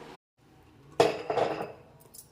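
A metal lid is set on a pot of ash gourd dal with a sudden clattering clank, followed by a short metallic rattle that settles after a quiet moment.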